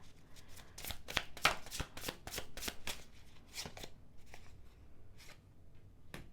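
Tarot cards being shuffled by hand, a run of crisp riffling and slapping bursts in quick succession that thins out toward the end, close and fairly quiet with no talking.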